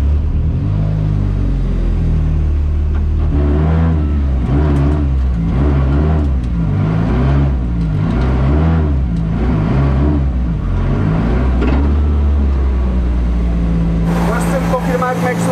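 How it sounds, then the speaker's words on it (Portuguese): A national-champion drift car's engine revving loudly at a karting track, heard from on board as a steady rumbling drone with repeated rising and falling revs, filling the whole stretch. "a experiência de andar a bordo de um carro de drift"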